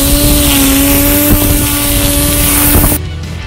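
A LawnStar 1000W electric combi-cut mower motor runs steadily through grass with a loud, constant whine and hum, then cuts off abruptly near the end.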